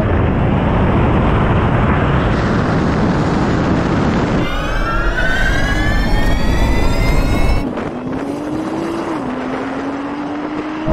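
A Nissan GT-R and a Porsche 911 launching side by side in a drag race: a loud, dense engine roar with a rising, gear-shifting whine that cuts off, then a single engine pitch climbing as the cars pull away.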